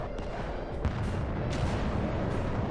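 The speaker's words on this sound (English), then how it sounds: "They are throwing everything they have at them: bombs, poison, artillery in every round they have" Artillery bombing in a zombie survival video game makes a dense, continuous wash of distant booms and rumbling blasts, with a few sharper hits standing out in the steady roar.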